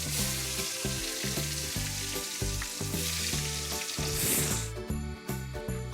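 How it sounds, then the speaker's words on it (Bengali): Potatoes coated in salt and turmeric fry in hot mustard oil in a wok for chicken dak bungalow. A loud, dense sizzle continues up close with no talking. "আলুগুলোকে বেশ ভালো করে ভেজে নেব।"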